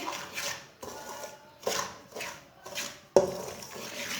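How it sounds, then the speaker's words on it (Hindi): Semolina roasting in a pan for halwa, with about five separate scraping strokes of a spoon against the pan, each a short gritty swish, heard up close with no talking. "सूजी को 2 मिनट के लिए भून लेंगे।"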